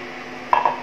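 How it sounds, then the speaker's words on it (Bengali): A metal lid lifts off a pot of freshly cooked biryani, giving a single brief clink with a faint ringing tail over a low, quiet background. "দেন ঢাকনাটা খুলে দেখি"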